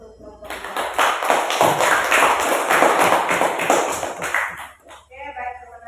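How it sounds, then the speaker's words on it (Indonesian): A classroom of students gives a group a round of applause, dense clapping swelling for about four seconds before fading into a teacher's voice and chatter near the end. "Kita beri aplaus dulu untuk kelompok 2."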